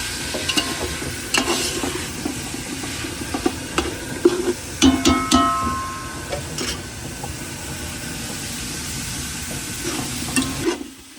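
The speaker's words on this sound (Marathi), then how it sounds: "शिंगाली तेलामध्ये शिजवून झाले." Catfish frying in oil aboard a fishing boat at sea off Mumbai, giving a continuous close sizzle with scattered sharp pops and crackles and a low hum of the boat underneath, with no talking.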